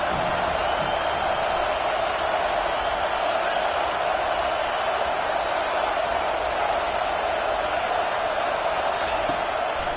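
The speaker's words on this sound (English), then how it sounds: "Decibels rising as the crowd gets behind this defense on 3rd down." A football stadium crowd roars steadily behind the defense on third down in a Nebraska vs Penn State video game. The dense, sustained noise swells without a break, with a faint commentator voice underneath.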